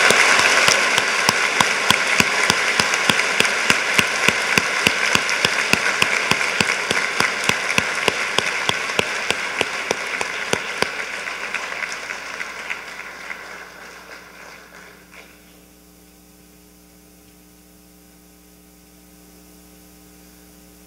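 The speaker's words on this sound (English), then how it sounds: "let's give our veterans one more round of applause and respect" Audience at a school Veterans Day program applauding veterans, a dense sustained round of clapping that gradually thins and fades out, leaving a low steady hum behind.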